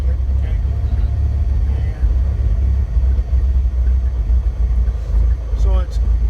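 A 1955 Beechcraft Bonanza F35 piston engine idles during run-up, a loud low steady drone with a brief dip partway, while people talk over it.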